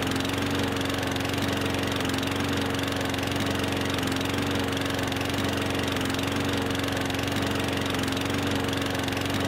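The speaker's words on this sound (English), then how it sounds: "Probably what we're doing is exactly what you do in real life with a grass mower like this." A push lawn mower in Farming Simulator 15 runs steadily for the whole stretch, a loud, unbroken mid-pitched engine drone with a buzzy texture and no pauses or talk.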